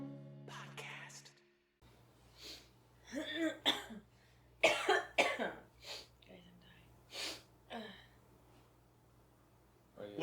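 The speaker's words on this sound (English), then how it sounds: "Some coughing." Several dry coughs and throat-clearing bursts spaced across a podcast recording, loud and close to the microphone over a steady low hum, with no talking between them.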